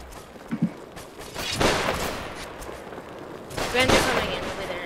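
Gunfire crackles in an online multiplayer video game match on a map called Beaver Island, with two bursts of rapid shots over background game noise and players' voices.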